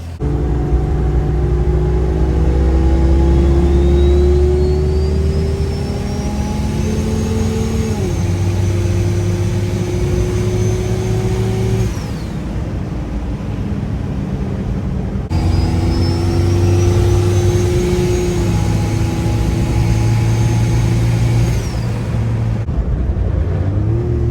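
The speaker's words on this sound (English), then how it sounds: "Figured I would just take the Jeep out, you know, drive around a little bit, stretch her legs." A Jeep engine while driving, a loud steady drone with rising and falling pitch as it shifts through gears and accelerates, continuous and close throughout.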